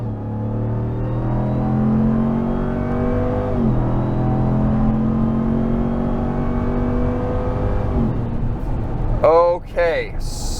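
Ram TRX pickup accelerating hard at full throttle onto a highway, a loud sustained engine drone with rising harmonics and gear-change dips, close and steady throughout, with a brief voice near the end.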